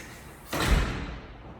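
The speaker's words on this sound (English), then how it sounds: "I'm gonna close the storm door." A storm door on a house front entrance swings shut with a single solid thud, loud and close, followed by a short fading rumble.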